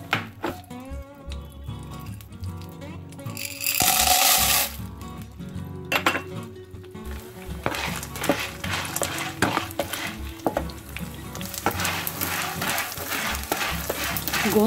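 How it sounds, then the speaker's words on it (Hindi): Edible gum (gond) goes into a pan while gond laddu is being made, bringing clattering drops and scraping stirs, then a rising sizzle with pan-and-utensil clinks in an irregular, close-up rhythm. "अब हम डालेंगे इसमें गोंद।"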